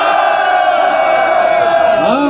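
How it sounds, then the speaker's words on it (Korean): A large crowd of marathon runners gathered at the start line lets out a loud, sustained collective shout, a continuous roar of many voices held for a few seconds before breaking off. "전방을 향해서 함성 3초간 발사"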